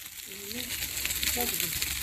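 Steady, faint sizzling of food frying in a pan, with a soft voice murmuring briefly in the background.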